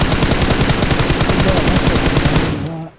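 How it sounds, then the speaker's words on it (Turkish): Rapid automatic M4 rifle fire in a commando-mission video game, a dense, loud, unbroken burst lasting nearly three seconds before cutting off abruptly. "M4'le biraz vuruyorum ona"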